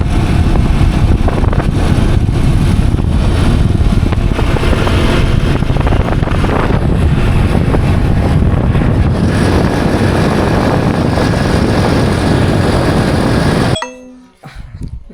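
A tractor engine running close by in heavy rain, a loud steady rumbling drone that cuts off abruptly near the end, leaving brief quieter noise.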